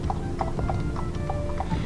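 A ridden horse's hooves clip-clop in a steady, even rhythm, close and clear, with a soft whinny-like tone in the background.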